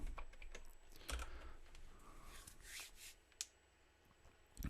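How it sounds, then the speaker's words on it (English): Quiet, clicky mechanical keyboard keys tapped in short irregular bursts at a desk, with a few louder isolated key strikes near the end and no talking. "Oh, listen to those clickety clacks."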